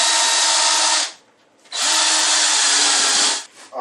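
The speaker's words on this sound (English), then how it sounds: "Let's get the next size up and drill it." A power drill cuts into a tube held in a JawHorse, with two loud, sustained whirring bursts near the microphone and a brief pause between them.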